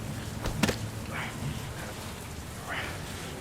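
Rain in the video game Heavy Rain: a steady, soft hiss of falling rain runs throughout, with a brief sharp crack early on.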